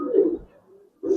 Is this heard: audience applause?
no